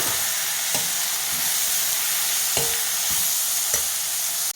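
Chopped tomatoes fry with chicken in a pan, a loud continuous sizzle and hiss broken by a few distinct stirring scrapes at intervals, close and with no voices.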